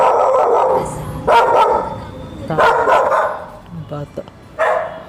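A dog barks in several sharp bursts with short gaps between them, close and fairly loud, while a person talks in between.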